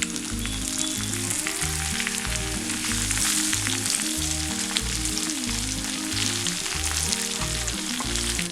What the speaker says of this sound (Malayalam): ഇതിലേക്ക് കുറച്ച് കറിവേപ്പില ഇട്ട് കൊടുക്കാം.